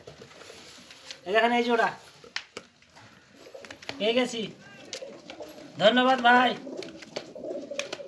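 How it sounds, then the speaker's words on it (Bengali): A pair of high-flyer pigeons coo in soft, throaty bursts close by, nearly drowned out by someone talking excitedly over them. "দেখেন এই দেখেন পায়রাটা"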